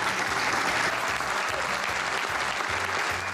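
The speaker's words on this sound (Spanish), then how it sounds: "Sí, un aplauso para Sergio." Sustained applause from an audience greeting Sergio, a steady dense clapping wash held at even loudness throughout, with faint murmuring beneath.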